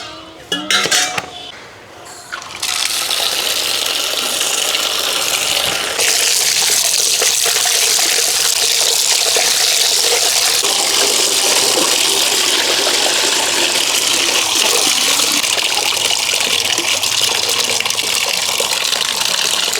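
Cut chicken curry pieces are washed under running tap water, a loud continuous gush and splash with clinks of a pot and utensils, preceded by a few brief clattering knocks.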